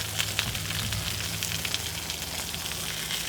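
Steaks sizzle in a hot pan just after being flipped during meal prep: a steady, close, crackling hiss with small pops, continuous throughout and with no talk.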